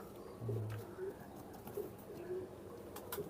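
Soft, low coos from a black Teddy pigeon repeat a few times at close range over a quiet background hum, with faint clicks and no clear speech.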